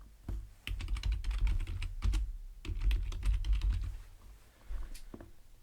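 Keys clack on a computer keyboard in quick bursts of typing, close and crisp, with short pauses between the runs of strokes and no voices.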